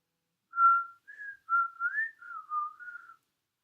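A person whistles a short tune in clear separate phrases, close and alone against silence.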